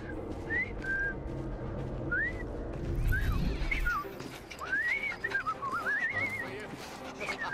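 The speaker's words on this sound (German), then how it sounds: "Oh ja, ich habe gerade gelernt zu pfeifen." A character whistles a wavering, rising-and-falling tune in Assassin's Creed Syndicate, several short phrases then a longer warbling run, heard over a low ambient rumble of the game's Victorian London setting.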